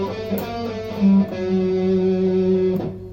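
Distorted electric guitar plays a slow practice run-through of a section of a song on a six-string, sustained notes ringing loud and alone with no talking.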